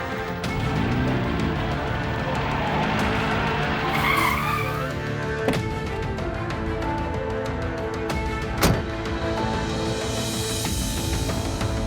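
A car tears away with its tyres skidding and squealing in a TV crime drama scene. The loud, continuous engine and tyre noise is broken by a few sharp bangs, with no one speaking.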